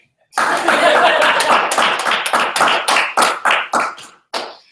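A crowd breaks into loud applause that quickly thins into a few scattered, slowing claps before a final lone clap.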